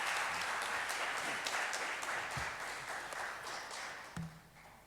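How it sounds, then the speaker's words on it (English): A seated audience applauds after a presentation at an academic panel on development in Africa, a continuous wash of clapping heard from a distance that gradually thins and fades toward the end. "another round of applause for Dr. Samba"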